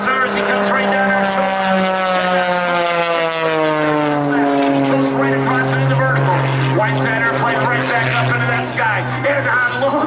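An aerobatic stunt plane named Prometheus dives at around 230 mph during a Michigan air show, its loud, sustained engine drone sliding steadily downward in pitch as it passes, heard alone without talk.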